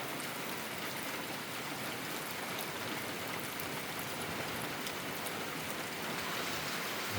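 Steady rain falling outdoors, a dense constant hiss of drops on surfaces with no pauses, moderately quiet and unbroken.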